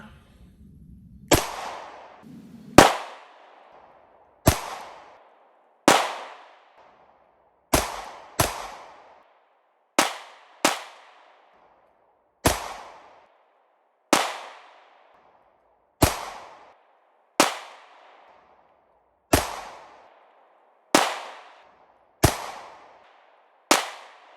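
A Glock 43X pistol fires about sixteen single sharp shots, each spaced a second or two apart, with a short ringing decay after every report and quiet between them.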